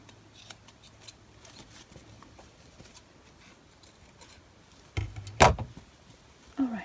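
Scissors snip through layered fabric while an eyeglasses case is made from scraps, a few quiet cuts early and then a louder, sharper snip or two near the end, close by with no talk.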